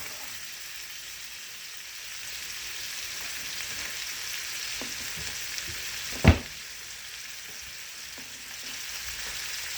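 Blackened seasoning cooks in a hot pan, giving a steady, close sizzling hiss that continues throughout, broken once by a single sharp metallic clank partway through.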